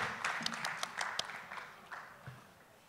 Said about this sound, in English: So please join me in giving a hand of applause to